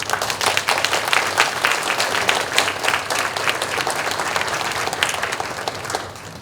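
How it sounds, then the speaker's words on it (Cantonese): An audience at a naming and thank-you ceremony for a community academic centre gives warm, sustained applause. Many hands clap densely for several seconds before it tapers off at the end. "我希望借大家熱烈嘅掌聲"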